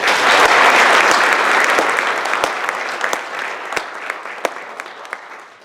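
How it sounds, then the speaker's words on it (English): An audience at a comedy class showcase applauds a comedic historian, loud dense clapping at first that gradually thins out, leaving scattered sharp individual claps toward the end. "let's give him a round of applause"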